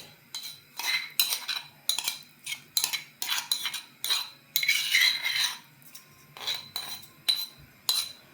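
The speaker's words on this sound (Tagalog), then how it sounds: "Timpla na tayo ng ating antibiotic." A spoon stirs a homemade onion and ginger drink, made as a cough remedy, clinking against the glass in quick, steady, repeated strokes close by, with no talking.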